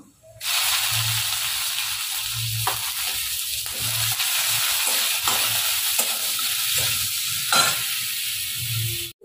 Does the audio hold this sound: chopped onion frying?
yes